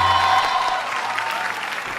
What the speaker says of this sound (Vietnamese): Mọi người vỗ tay thôi em.